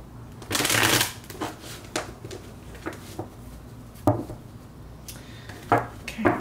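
Tarot cards being shuffled for a love reading: a long riffle burst up front, then a series of short, crisp card slaps and flutters at irregular intervals, close and fairly quiet with no talk.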